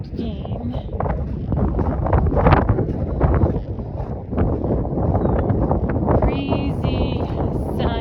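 Wind gusting on the Pacific Crest Trail in California on a breezy, sunny day, buffeting the microphone with a steady rumbling roar; faint chirps appear near the end.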